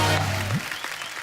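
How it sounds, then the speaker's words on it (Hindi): A studio audience on a Hindi comedy talk show applauds loudly in a dense clapping burst with a sustained tone over it, then the applause quickly fades. "जोरदार तालियां हो जाए ध्वनि के लिए।"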